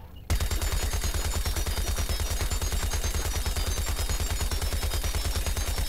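A retro Gatling gun firing continuously in the video game Plants vs. Zombies: Garden Warfare 2, a loud, steady stream of evenly spaced rapid shots that starts abruptly and runs without pause.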